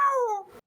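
A human voice imitates a desert hawk's cry with a single short, descending screech that fades out abruptly.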